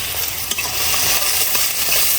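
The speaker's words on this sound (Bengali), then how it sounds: "ভালো করে সবগুলো নেড়ে নেব।" Fried onions and dry red chillies are stirred in a pan with steady scraping and a loud, close, continuous sizzle.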